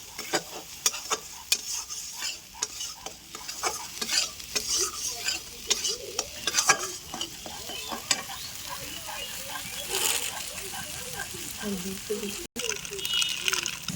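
Spice paste sizzling in a pan for an egg and potato poppy-seed curry, with repeated scraping stir strokes and a crackling fry beneath faint background voices.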